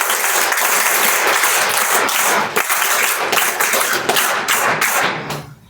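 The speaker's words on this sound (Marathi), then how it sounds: "संपूर्ण शिबिरामध्ये अशाच पद्धतीने टाळ्या वाजवायच्या" Steady, loud applause from an audience at the opening ceremony of a National Service Scheme winter camp, with rhythmic clapping throughout that fades out at the end.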